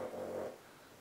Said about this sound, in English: all that noise you hear in the background is my pug